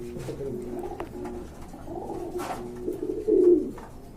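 Pigeons at a farm in Kashimpur, Gazipur, coo in soft, repeated throaty rolls, several birds overlapping close by, ending in one louder coo.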